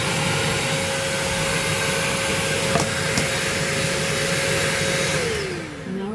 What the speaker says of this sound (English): Bush vacuum cleaner stick.